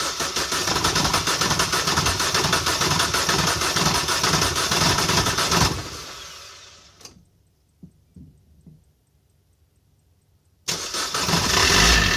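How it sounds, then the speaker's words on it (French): Opel Corsa 1.3 CDTI diesel engine cranking and starting on the second attempt: a loud running clatter cuts off into near silence with a few brief cranking bursts, then the engine catches and roars back strongly at the end. "la voiture n'a pas démarré du premier coup, elle a démarré au deuxième coup"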